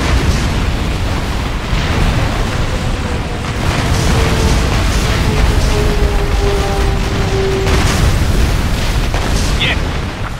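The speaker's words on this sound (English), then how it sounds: "Bombs away. Hit. Building destroyed." Bombs strike and level a building in a combat flight video game, a dense, loud rumble of blasts and crashing debris rolling on continuously, with engine drone and a faint radio-style whine underneath.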